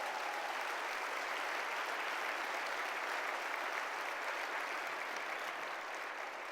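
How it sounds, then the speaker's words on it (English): An audience at an MLK holiday breakfast applauds, a dense, even wash of clapping hands that carries on steadily without a break and is heard from some distance. "Give us a round of applause for that."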